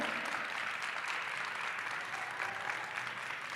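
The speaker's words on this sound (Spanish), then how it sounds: "Fuerte el aplauso, por favor." An audience at a singing contest applauds a participant, a steady, fairly distant wash of many hands clapping that holds evenly throughout.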